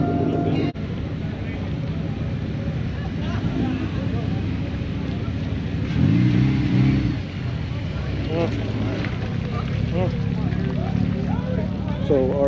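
A car fitted with a Volvo engine at a chill car show in light rain, its engine rumbling and swelling briefly around the middle, mixed with steady crowd chatter and nearby voices throughout.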